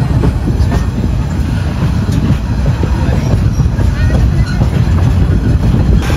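Probal Express intercity train running on rails toward Cox's Bazar, heard from on board as a loud, steady low rumble with rhythmic wheel clatter and faint squeals throughout.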